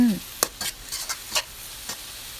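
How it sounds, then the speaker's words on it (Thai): Spicy pork balls are stir-fried with Thai basil leaves in a pan, giving a few short scraping stirs over a soft, steady sizzle, close and clear with no talking. "ผัดไปสักแป๊บหนึ่งค่ะ ผัดแค่พอใบโหระพาสลดลงไปเท่านั้น"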